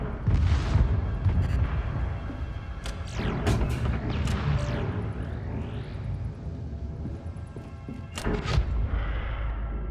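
Heavy booming blasts of a spaceship cannon in the video game Void Crew fire repeatedly, with sharp bursts and sweeping whooshes over a low rumbling drone.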